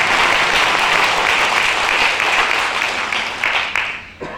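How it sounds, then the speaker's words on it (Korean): Lecture audience applauds on request, a loud burst of dense clapping that holds steady, then thins and tapers into scattered claps near the end. "좀 지루할 수 있으니까 박수 한번 세게 쳐볼까요?"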